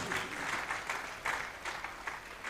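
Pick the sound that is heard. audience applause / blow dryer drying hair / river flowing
audience applause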